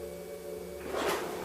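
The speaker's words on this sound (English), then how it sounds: "That's the door on the ground floor. Did you hear the metal of the clasp?" A door on the ground floor of Pengersick Castle shuts once with a faint metallic clasp click, heard at a distance against a quiet, humming room.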